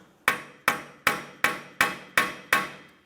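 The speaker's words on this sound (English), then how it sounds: "We'll use a hammer and punch directly in the center." Hammer and punch driven against the center of a rear wheel hub axle on a 2017-2024 GMC Acadia, seven sharp metallic strikes at an even, steady rhythm, each ringing briefly before the next, close and clear with no talk.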